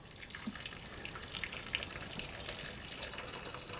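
Hot water poured over octopus pieces with olive oil in a cooking pot, a steady soft splashing stream with light drips, fairly quiet and continuous.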